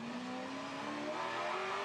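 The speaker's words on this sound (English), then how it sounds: "Listening to the way that car puts its power down, it's a really well set up race car, the EFS Camaro." An EFS Camaro touring race car accelerates hard at a circuit race in Adelaide, its V8 engine note rising steadily in a loud, continuous roar with no talking.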